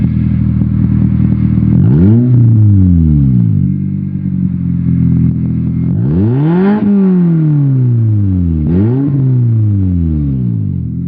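A Toyota Matrix TRD with a stock exhaust and muffler revs loudly and repeatedly, rising and falling in pitch with each blip of the throttle, close up and continuous with no talking.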